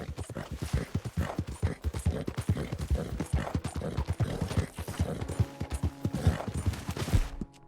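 Horse hooves clip-clop at a steady walking rhythm in the video game Red Dead Redemption II, a close, continuous series of crisp hoof strikes, with no talking.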